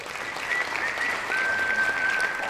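Applause for Yankees pitcher Mike King after a 13-strikeout outing against the Blue Jays: a soft, steady patter of many hands clapping at modest volume, with a thin whistle-like tone drifting over it.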